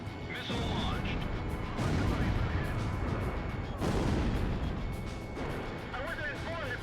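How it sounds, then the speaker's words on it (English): A missile launch from a fighter jet in Ace Combat Zero, heavy booming blasts and roaring rushes in long waves, loud and close, with a voice talking over parts of it. "Missile launched."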